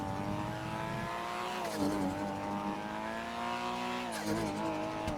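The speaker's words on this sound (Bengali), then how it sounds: "রাস্তার মাঝখানে ড্রিফটিং মারবো" A Nissan Skyline car mod drifts in the video game GTA V. The engine drones while the tires squeal loudly and continuously, their pitch bending and rising twice as the car slides.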